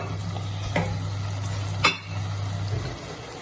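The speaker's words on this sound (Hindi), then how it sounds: "तो ये शलजम बहुत अच्छे से भून रहे हैं, अभी थोड़ी देर और भूनेंगे।" Turnips for shalgam sabzi fry in oil in a pan with a steady low sizzle, broken by a couple of faint stirring scrapes, no voices.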